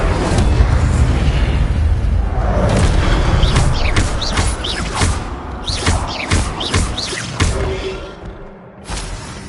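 A fire spell is cast in the video game Hogwarts Legacy, bursting with booms and whooshing flares over a dense rumbling bed, followed by a quick series of bright crackling zaps that fade toward the end.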